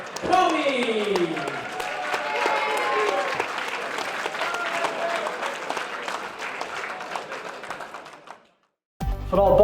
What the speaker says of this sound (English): please can we have a big round of applause for Raymond Commey.